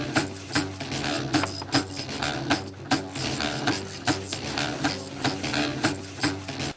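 Rhythmic rasping and scraping of hand tools working wood in a craft village workshop, a quick run of close strokes, each one a short gritty burst, with no talking.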